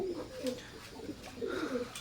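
Soft, low coos of Teddy pigeons repeating in short phrases, close by, with faint background rustle.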